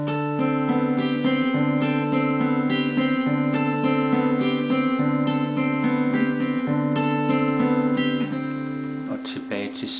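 Chord strummed five times in a steady rhythm, then the sustained notes ring on; a guitar practice demo with no talk over it.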